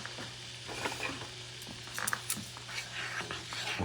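Turmeric sizzles and fries in a hot pan, a steady close crackle with a few soft stirring scrapes and pops.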